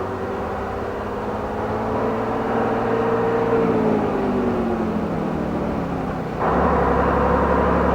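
A 24-ton Leyland Beaver truck outfit driving along, its engine a steady, loud drone that shifts in pitch midway and then grows louder and fuller.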